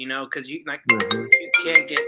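A mobile phone ringtone plays as a series of bright, repeating electronic tones over someone talking during a conversation.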